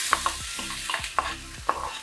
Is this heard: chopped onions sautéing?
yes